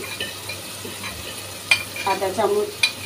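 Fish curry with turmeric, chili powder and salt stirred in a hot pan, a soft steady sizzle with spoon scrapes and occasional sharp clinks of utensil against the pot.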